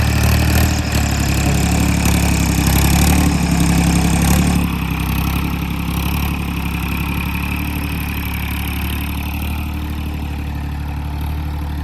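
A tractor engine on GKT tyres runs steadily nearby with a low, constant idling drone, slightly louder for the first few seconds before settling a little quieter.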